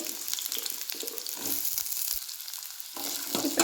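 Chopped onions, about two medium ones, fry in heated oil in a pan with a steady close sizzle and crackle, with occasional stirring scrapes throughout.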